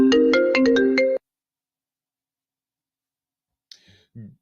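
A phone ringtone for an incoming call sounds close and clear in a short burst of rapid repeated tones, then stops; after a long silence, brief faint sounds follow.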